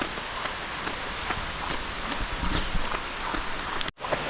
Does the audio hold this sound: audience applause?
no